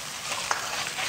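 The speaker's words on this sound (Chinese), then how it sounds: "油温5成热，下入鱼骨头给它煎一下" Fish bones sizzle steadily in a wok of oil heated to medium temperature while a Sichuan crucian carp dish is cooked, a dense close hiss with a brief crackle midway and no voices.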